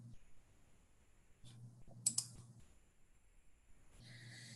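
A computer mouse clicked during an online registration, a quick pair of faint clicks in a near-silent room.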